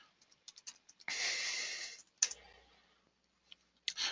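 An ID number is typed into a retail card terminal, heard as a few quick faint key clicks and a longer scratchy burst, then scattered taps near the end.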